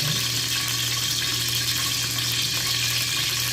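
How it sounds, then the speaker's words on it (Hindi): Water poured into a pan on a stove while cooking semolina halwa, a steady close rushing splash that continues throughout without talk. "तो 1 कप जो है मैं पानी का इसमें डालूंगा"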